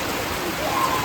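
Heavy monsoon rain falls in a dense, steady hiss of drops on surfaces, loud and close for a short moment with no other sounds standing out.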